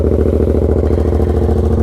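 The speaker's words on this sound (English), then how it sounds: "So let's do a cold start with this. It's like a straight exhaust, so it's kind of loud." A 2015 Yamaha MT-07 motorcycle with a loud straight-pipe exhaust runs on a cold start. Its engine holds a steady, close, throbbing idle throughout, with no talking.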